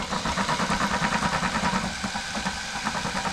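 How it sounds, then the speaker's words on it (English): A power drill spins steadily with 80-grit abrasive to polish a part on a 1946 Ford build, making a continuous close whirring drone with a slight pulsing rhythm throughout. "I got my drill here."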